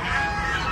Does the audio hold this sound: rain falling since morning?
no